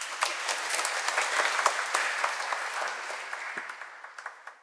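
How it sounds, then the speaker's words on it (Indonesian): Congregation applause at a Sunday Easter Mass in church honouring a couple's fiftieth wedding anniversary, dense hand clapping from a crowd that swells and then gradually thins out and fades. "Boleh tepuk tangan tertinggi ini."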